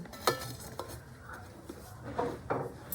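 Metal lid set over a pot of milk for sweet yogurt, with the pot sitting in a bucket: a few close clinks and knocks of metal, fairly quiet, with no speech.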